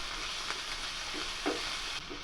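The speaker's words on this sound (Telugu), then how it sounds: "ఒక టమాటాను కూడా వేసి పచ్చిపోయేంత వరకు ఫ్రై చేసుకోవాలి" Tomato, green chillies and curry leaves sizzling in a pan in a steady, hissing fry, with a few soft scraping stirs of a spoon, close and moderately quiet.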